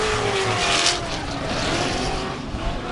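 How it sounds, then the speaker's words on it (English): A Nissan S14 drift car with a big LS V8 engine roars through a drift at a British Drift Championship round at Teesside Autodrome, a loud, harsh, sustained engine snarl with tire noise, close and continuous. "It's a very, very angry sounding car, is that S14 with that big LSV8 in it"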